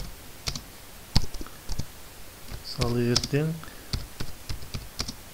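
Keys clack as text is typed on a computer keyboard, with irregular close taps spread across the moment and a person talking briefly in the middle.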